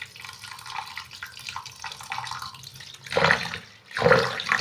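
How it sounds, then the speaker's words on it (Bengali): Rice is rinsed in water in a home kitchen, with steady sloshing and trickling that swells into two louder splashing bursts toward the end. No one speaks. "তো চালটা ধুয়ে নিলাম ভালো করে"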